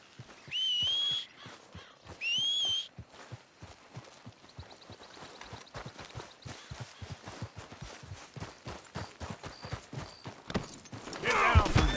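Horse hooves clip-clop in a steady rhythm throughout a Red Dead Redemption 2 ride, with a couple of whistles early on and a neigh near the end; the hoofbeats are moderately close.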